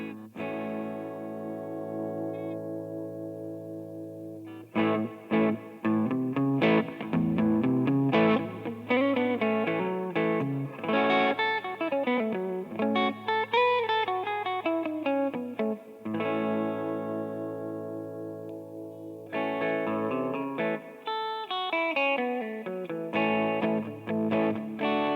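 Gibson Les Paul electric guitar played through an amp with a light, slightly gritty tone: chords and melodic runs with echoey effects, steady and loud, no voices.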